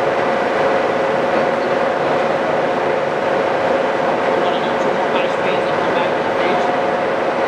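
Giddings & Lewis 4-inch 340T horizontal boring machine, spindle spinning at high speed near 1,050 RPM with a 20 horsepower main drive, giving a loud continuous roar and steady whine, close up, with a voice speaking over it.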